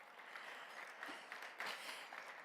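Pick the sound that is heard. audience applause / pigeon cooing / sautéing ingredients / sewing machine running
audience applause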